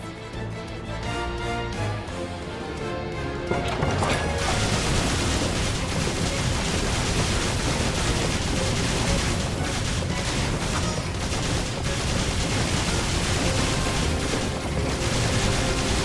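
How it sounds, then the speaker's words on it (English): Ether cannon fired from a ship's deck in Granblue Fantasy Relink, heard as a dense, loud barrage of booming blasts and battle noise that sets in after a few seconds and keeps going without a break. "Use one of the ether cannons on the deck and defend us."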